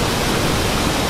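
Davis Falls, a waterfall in Nepal, roars as a loud, close, unbroken rush of falling water, a dense broadband wash with no pauses and no voices.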